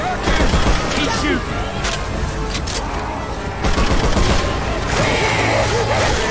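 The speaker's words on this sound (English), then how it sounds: "He's shooting!" Rapid gunfire crackles and pops in Left 4 Dead 2, bursts of shots layered over a noisy combat scene, with people talking over the action.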